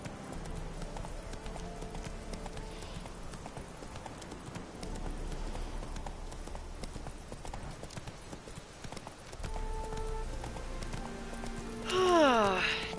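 Roach, a horse in Witcher 3, gallops in a steady, continuous drum of hooves, with rain-like hiss underneath and a brief tonal game sound near the end.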